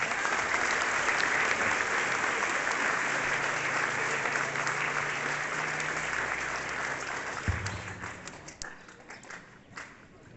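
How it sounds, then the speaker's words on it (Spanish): A crowd at a school sports event applauds a municipal official, the clapping steady and full at first, then gradually fading into scattered claps and a few taps as it winds down. "Y fuertes los aplausos"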